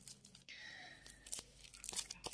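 Football trading card pack being torn open, a close crinkly rip of foil wrapper followed by scattered crunching and rustling bursts.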